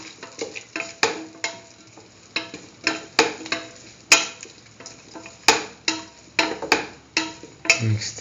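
Potato and broccoli marinated in mustard being mixed in a pan: a close, fairly loud run of rhythmic spatula scrapes and clicks against the metal, with a faint sizzle and no voices.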